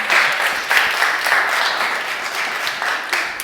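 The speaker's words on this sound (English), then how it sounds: "Give him another round of applause." An audience claps in a steady burst of applause at a talk on robot-aided forestry management, with the clapping fading slightly toward the end.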